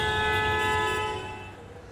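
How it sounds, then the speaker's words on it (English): A loud, sustained vehicle horn blares in Indian street traffic, holding one steady tone for about two seconds and fading slightly at the end. "the Indian solution to bad driving? Banging that horn as often and as loud as possible"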